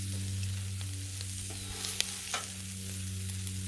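Curled shrimp for scampi sizzle on a Blackstone griddle, a constant crackling hiss under a low hum, with a few sharp clicks and scrapes from a utensil on the flat-top.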